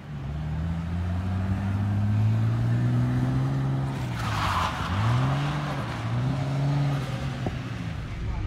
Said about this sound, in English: You can hear the turbo in the background.